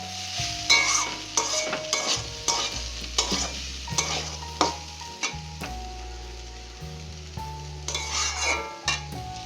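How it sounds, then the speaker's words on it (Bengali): Food fries in a pan with a steady sizzle. A utensil scrapes and clatters against the pan in repeated quick strokes as the food is stirred. No one talks. "ভাজাটাও প্রায় হয়ে গেছে।"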